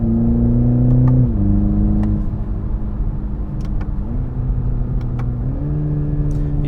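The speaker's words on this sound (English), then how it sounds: "But you see the downshifts, the upshifts, everything is just so crispy with this vehicle." A 2021 Toyota Supra 2.0 pulls steadily under acceleration, its engine drone dropping and rising at several gear changes, loud and close from inside the cabin.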